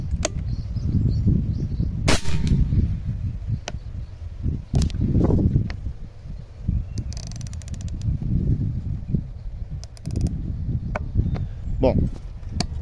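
Several sharp, snappy shots from an R8 6.35 mm air rifle firing slugs, spaced irregularly, with rustling and handling noise between them.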